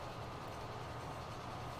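Diesel locomotive from the rail simulation game Transport Fever, a steady low engine drone with faint rolling rail noise throughout, moderately quiet and continuous with no talking.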